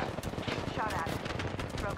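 Rapid gunfire in the video game Apex Legends, a dense, loud burst of repeated shots throughout the short moment, with voice chat overlapping in the mix.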